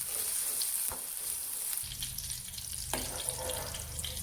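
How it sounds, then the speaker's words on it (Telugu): Chopped ridge gourd frying in oil, a continuous soft sizzle with a few stirring knocks, fairly quiet and close. "మనం ముందుగా కట్ చేసి పెట్టుకున్న బీరకాయల్ని నూనెలో వేసి ఫ్రై చేసుకోవాలి."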